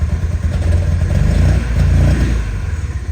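A fuel-injected 1972 Honda N-600 two-cylinder engine runs loud and close, its rough, lumpy idle swelling as the throttle is blipped, with a clattery mechanical edge throughout.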